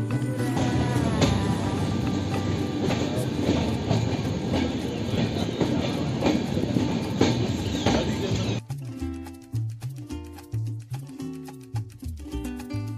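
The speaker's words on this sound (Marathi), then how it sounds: "धुरी जंक्शन नंतर आपली ट्रेन पोहोचते लुधियाना जंक्शनला" Vivek Express passenger train running on rails near Ludhiana Junction, a loud continuous rolling rumble with metallic ringing that gives way to rhythmic clickety-clack beats of wheels over rail joints.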